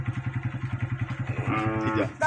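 Motorcycle in a village field area, its engine giving a steady, rhythmic low thumping at idle, with a voice briefly rising over it near the end.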